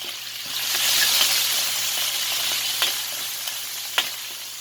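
Chicken frying in a pan, a loud, continuous close sizzle with a couple of sharp pops and stirring clicks, no voices.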